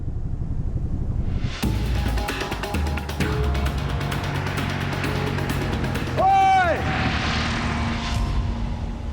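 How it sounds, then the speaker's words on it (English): A spotter plane flies overhead above the scorching Outback, its broad engine drone steady and loud throughout while several voices shout and talk over it. "A spotter plane is heading straight for Theo."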